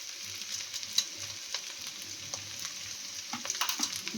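Rice frying in oil and ghee in a pot makes a soft, steady sizzle with scattered light crackles and a few faint stirring scrapes, fairly quiet and without talk.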